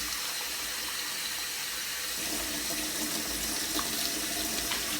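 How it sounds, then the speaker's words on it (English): Cold water running steadily from a tap to rinse a Dyson V10 Animal vacuum part, a continuous close splashing rush of water that fills the whole stretch without pause. "how you actually clean this is with cold water, running cold water"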